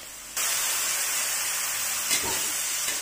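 Ground spice paste hitting a hot pan while making tahu tempe bacem, a steady loud sizzle starting abruptly and holding for a few seconds with a brief flare near the end, no voices.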